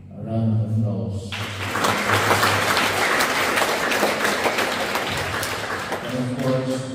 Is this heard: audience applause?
yes